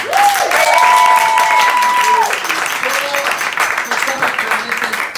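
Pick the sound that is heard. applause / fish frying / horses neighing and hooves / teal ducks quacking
applause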